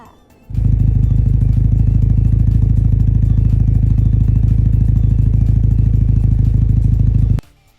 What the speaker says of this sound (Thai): มาฟังเสียงท่อกันค่ะ